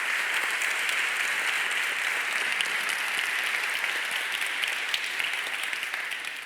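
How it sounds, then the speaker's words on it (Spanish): Sustained applause from an audience at an event on the occult, a dense, even wash of many hands clapping at steady loudness for several seconds, tapering slightly at the end. "a la que también pido un aplauso"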